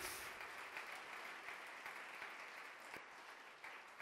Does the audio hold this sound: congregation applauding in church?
yes